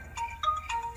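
A cellphone rings with a repeating electronic tone, three bright bursts in about a second, fairly clear over a low background hum.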